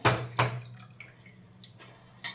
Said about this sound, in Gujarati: એને આવી રીતે પાણીથી ધોઈ કાઢું છું